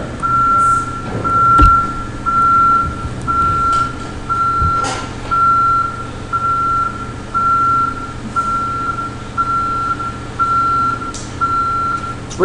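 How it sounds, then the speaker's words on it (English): Loud, steady vehicle reversing beeps repeat at an even pace over the rumble of a nearby truck engine and some clanking. "I'm not sure what the beeping is supposed to do"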